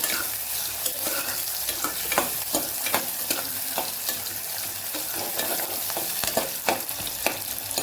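Two medium onions, sliced into long strips, sizzle and crackle loudly in a hot oil tempering for Kathiyawadi vaghareli khichdi, with frequent scraping stir clatters punctuating the steady frying hiss; no voices.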